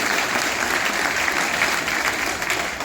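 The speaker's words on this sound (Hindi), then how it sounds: "एक बार दोनों लोगों का जोरदार तालियों से अभिनंदन करके स्वागत है।" Steady, sustained applause from a large crowd, dense clapping at an even level throughout.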